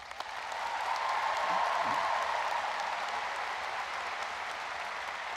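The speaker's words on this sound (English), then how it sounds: "Would you give them a real IU Southeast welcome and applause?" Audience at a university commencement ceremony applauding staff, a steady wash of clapping that swells early and holds at moderate loudness, heard from a distance in a large hall.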